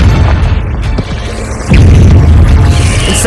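A Confringo spell blast from the wizarding game Hogwarts Legacy lands as a loud, deep boom that swells suddenly over ongoing rumbling, then holds as a heavy, sustained roar.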